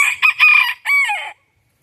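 A bantam rooster crows loudly and close by, one full call broken into a few sharp bursts and then a longer drawn-out final note, with silence after.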